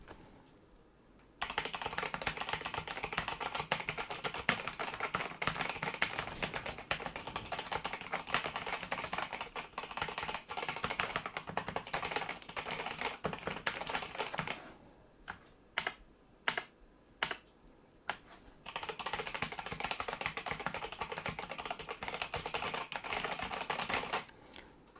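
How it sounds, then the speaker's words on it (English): Fast, continuous clacking of keys on an MSI GK71 Sonic mechanical gaming keyboard, close up, with a short pause of a few separate keystrokes before steady typing resumes. "And typing noise, let's give you an example of what it's like to actually type on."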